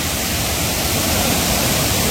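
A waterfall on a slippery Sahyadri monsoon trek route through the Baildara and Fenyadevi ghat, giving a steady, dense broadband roar with no pauses, close and loud throughout.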